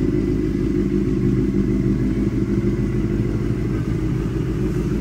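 Motorcycle engine running loud and steady at close range, a thick continuous low rumble held throughout with only slight swells in pitch, no voices over it.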